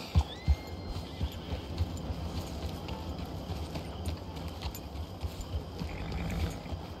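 A horse in the Red Dead Redemption 2 video game gives a whinny, and hoofbeats clop in uneven bursts near the start and scattered afterward, fairly quiet over a soft outdoor ambience.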